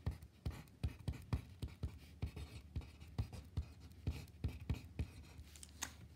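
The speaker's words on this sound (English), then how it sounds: "So I write down my equation." Pen scratching as an equation is written out by hand, rapid irregular strokes and taps close up, quiet, with brief gaps between bursts and no voice.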